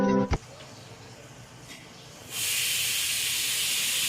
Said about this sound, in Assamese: বাবা কুকাৰটো 2 চিটি মাৰিছে হৈ গ'ল নেকি